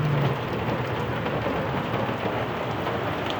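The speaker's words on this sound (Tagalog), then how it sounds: "Ulan pa yun." Steady heavy rain pouring down on a rainy day, a dense continuous hiss of drops on surfaces throughout, with no talk.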